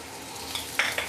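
Garlic and onion sautéing in a pan, a soft steady sizzle topped by a few brief hissing bursts and stirring scrapes in the last half second.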